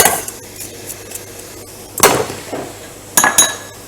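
Onions being stirred in a pan with a utensil while making sweet potato dip, quiet scraping broken by a few sharp metallic clanks and knocks against the pan, no speech.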